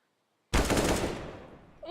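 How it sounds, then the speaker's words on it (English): A loud, sudden burst of rapid automatic gunfire in Counter-Strike on the Inferno map erupts after a moment of silence and then tails off into a fading echo. "Mink gets 1, and Mickey misses his shots."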